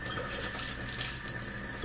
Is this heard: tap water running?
yes